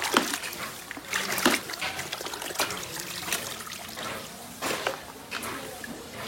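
Water running and splashing while beef meat is washed, a steady close trickle with intermittent splatters and no talking.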